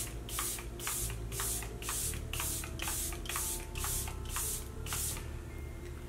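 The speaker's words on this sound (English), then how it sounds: "I'm gonna use my Charlotte Tilbury setting spray because that's what she used" About a dozen quick hissing spritzes from a makeup setting spray bottle in an even rhythm, close and crisp, over a low background hum.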